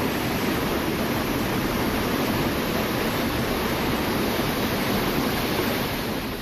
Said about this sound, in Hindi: नालों का ये उफान देखिए, कभी भी पानी घरों में घुस सकता है।